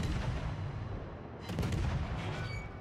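Armor-piercing naval shells fire in the World of Warships game, a heavy booming salvo cutting in over constant loud battle rumble, with a second burst following.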